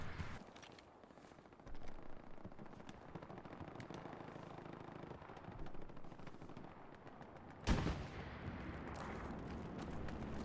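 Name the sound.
gunshot in a video game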